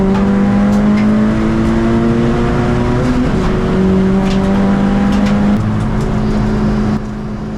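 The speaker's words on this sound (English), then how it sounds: "that exits stage right just as Jim Hutchinson carves his way through the field in his RSR" Ford race cars at Brands Hatch roar loudly and continuously, engine pitch rising and dipping through gear changes as the pack circulates, with no commentary heard.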